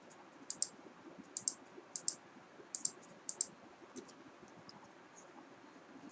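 Computer mouse clicks while working in Power BI, a series of sharp paired clicks repeating every half second or so, close and quiet over a faint background hum.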